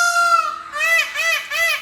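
A peacock with its tail fanned out calls loudly and close by, first one long wailing cry, then three shorter rising honks in a steady rhythm.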